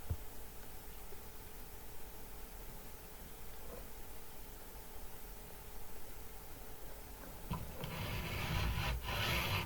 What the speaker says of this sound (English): Back to the 400 grit stone. Slow, even strokes, no extra pressure.